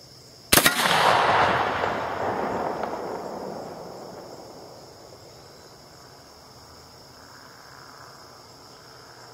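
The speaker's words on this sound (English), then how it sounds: "Let's see what some 777 behind a nice 50 cal round ball does." A black powder muzzleloader loaded with 777 powder fires a .50 calibre round ball, giving one sharp, loud outdoor report followed by a long fading roar of echo and then quiet range ambience.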